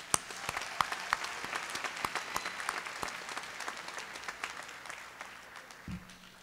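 Applause from the audience at a 2014 School of Business and Information Systems commencement ceremony, a steady wash of many hands with sharp individual claps popping out, tapering off near the end.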